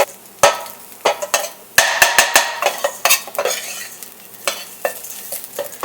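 Spice masala with turmeric fried in oil for a pumpkin and red lentil curry, stirred hard with a utensil: rapid, uneven scrapes and knocks against the pan over a continuous sizzle, loud and close-up, with no voices.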